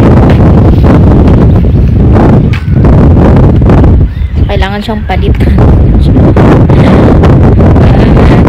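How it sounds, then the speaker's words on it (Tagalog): Strong wind buffets the microphone in loud, roaring gusts, with a voice speaking briefly partway through. "Mahangin."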